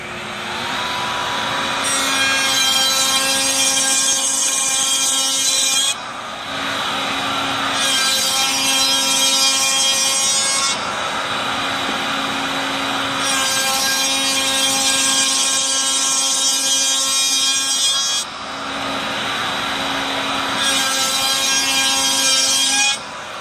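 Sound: Evans Rotork 1040 T-moulding machine cutting kerf in thermofused laminate

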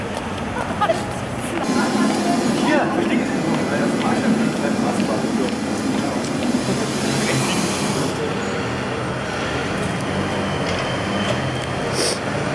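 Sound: tram passing in East Berlin

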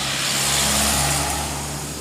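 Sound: car driving past on road

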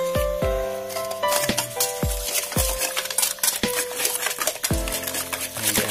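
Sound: stirring amplang fish cracker dough with egg, sugar, baking soda

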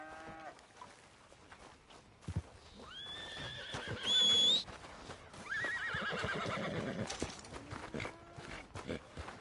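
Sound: horse neighing, from a video game

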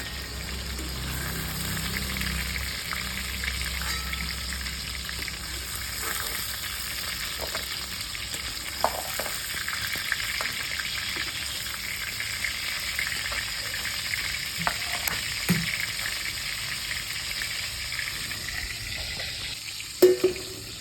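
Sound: pointed gourd (potol) frying in oil

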